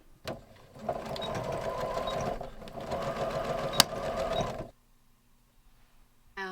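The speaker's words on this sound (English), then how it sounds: "I just mark my pleat like this down 3 inches, and I'm going to just sew." A sewing machine runs in two steady bursts of rapid, rhythmic stitching as it sews a pleat on trousers, then cuts off into near silence with a brief mechanical click at the end.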